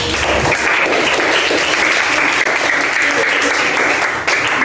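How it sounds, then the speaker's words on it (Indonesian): A school class applauds a student group, many hands clapping in a loud, continuous wash that stays even throughout, with some voices mingled in. "Kita beri tepuk tangan untuk kelompok Indonesia."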